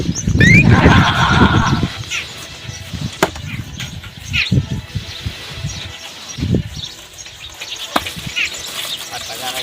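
A mare whinnies loudly and briefly near the start, followed by scattered thumps, knocks and movement sounds, with voices talking intermittently in a comic Gujarati village scene.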